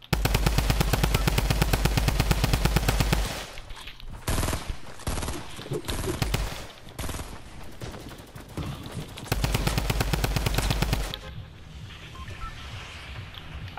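A drum gun fires in the Fortnite video game: loud, rapid automatic bursts of gunfire broken by short gaps and scattered shots, with other game effects between the volleys.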